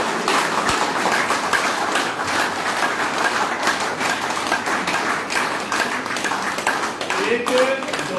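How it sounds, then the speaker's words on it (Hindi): Audience clapping at an International Yoga Day event in Churu, Rajasthan, a steady dense patter of many hands continuing throughout with crowd noise and voices mixed in. "जोरदार तालियां।"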